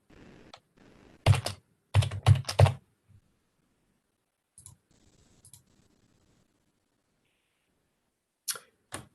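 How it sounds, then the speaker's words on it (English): A username and password are typed on a computer keyboard in short bursts of crisp clicking keystrokes, separated by quiet pauses, close and clear with no talking. "let me just type it in"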